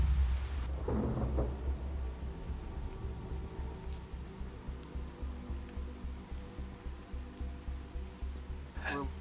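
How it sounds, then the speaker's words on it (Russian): Steady rain falls outdoors at a forest camp where porridge and bread are being cooked. It makes a continuous hiss with low, rolling thunder-like rumbles pulsing beneath it. No one speaks. "Начался дождь, ребята пытаются варить кашу, делать хлеб."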